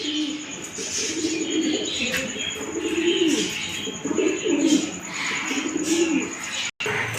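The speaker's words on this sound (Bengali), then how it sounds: "এখানে বিভিন্ন ধরনের কবুতর আছে।" Several pigeons of various breeds at a pigeon farm cooing in overlapping rolling calls nearby, with a faint steady high tone and occasional chirps and wing flutters.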